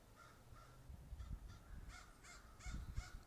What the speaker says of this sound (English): As you can hear, the crows are going nuts today.